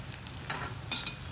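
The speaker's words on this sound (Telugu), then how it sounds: "ఇలా మసాలాని ఆయిల్లో ఉడికించుకోవాలండి." Masala frying in oil with eggplant, stirred briefly with a utensil: a few light scrapes and clinks over a soft sizzle, ending in one louder scrape.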